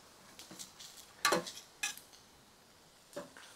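A vegetarian smashed burger patty being turned in a pan: a few quiet, separate clicks and scrapes of a spatula against metal, one sharper clatter in the middle, close and otherwise calm, without talk.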